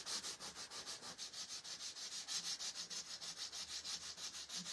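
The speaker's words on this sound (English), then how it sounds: "So I'm just going to grab my sanding block." Sanding block rubbing back and forth over painted wood, a steady rhythmic scratchy swish repeating about four times per second, close and alone with no talking.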